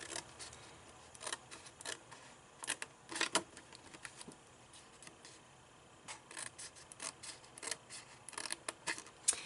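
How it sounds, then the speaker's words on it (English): Scissors snipping along the score lines of a paper wedding favor box, a series of short crisp cuts in irregular bursts, close and fairly quiet, with no talking. "You'll want to cut straight up each of these score lines and cut across that 1/2 inch score line"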